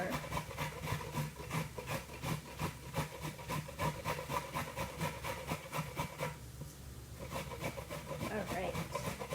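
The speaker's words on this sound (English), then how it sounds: "I'm doing this on the larger side of my grater, not the finer side" Cauliflower is grated on the coarse side of a hand grater in a home kitchen, a rapid rhythmic rasping of repeated strokes that pauses briefly before resuming, fairly quiet and close.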